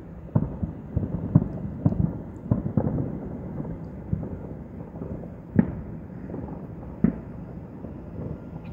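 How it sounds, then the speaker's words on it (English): July 4th fireworks explode outdoors as a series of distant, booming thuds at irregular intervals, with a couple of louder sharp bursts standing out against a steady low background rumble. "But people are spending money on these fireworks this year."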